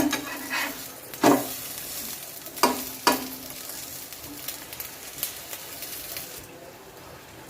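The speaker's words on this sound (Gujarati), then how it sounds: "આને પણ આપણે બીજી બાજુ પણ તેલ લગાવીને શેકી લઈએ આ રીતના" An aloo paratha roasts in oil on a pan, giving a low steady sizzle. Several sharp scraping clacks sound as it is turned and pressed, and there is faint background noise.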